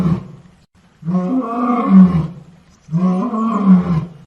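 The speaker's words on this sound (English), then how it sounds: "Lion." A lion lets out two long, loud, deep roars close by, each about a second and a half with a short pause between them.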